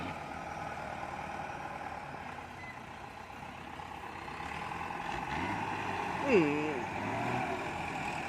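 A dump truck engine, a Fuso or Isuzu 270 at an earth pit, runs steadily with a low rumble and swells slightly louder midway, while voices exclaim over it.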